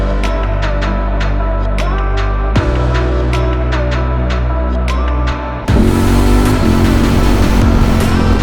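A 2021 Ducati Streetfighter V4S motorcycle engine runs while riding, a loud, steady throbbing drone with sharp repeated ticks, an abrupt shift in pitch partway through as the engine note changes.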